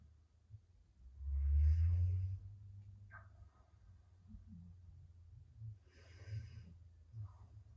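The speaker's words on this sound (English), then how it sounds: "Just take an inhale and exhale here" Slow, audible breathing during a hot yoga class: a strong nasal inhale swelling for about a second, then softer exhales and breaths trailing off, close and unaccompanied by talk.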